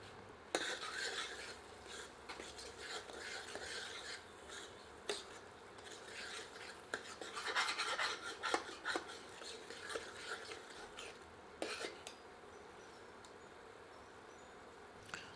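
A ladle stirs mixed winter greens saag of mustard, bathua and spinach in a cooking pot, giving quiet scraping and clinking strokes that come and go at irregular intervals, soft and close, with no talk.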